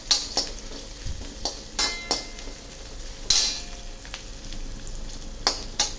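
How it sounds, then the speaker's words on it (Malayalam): Chopped onions sauté in a pan, with a steady soft sizzle broken by sharp, irregular clinks and scrapes of a spatula stirring against the metal, close and with no talking. "മുറിച്ച് വെച്ചിരിക്കുക ഉള്ളി നമ്മൾ അതിൽ വഴറ്റിയെടുക്കുകയാണ് നന്നായിട്ട്."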